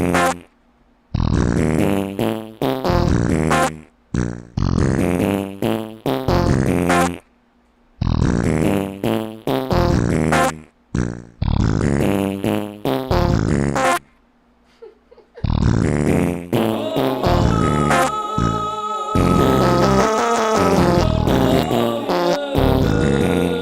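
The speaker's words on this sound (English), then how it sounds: "we can kind of do what they're doing over there with the fart sound effects" Fart sound effects play in a rapid series of loud, buzzy blasts in rhythmic bursts with brief pauses between groups, ending in a longer, busier stretch.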